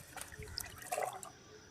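Fermented vegetable-waste water poured onto garden plants, a soft, close trickle and dribble with scattered splashes, fairly quiet against a faint outdoor background.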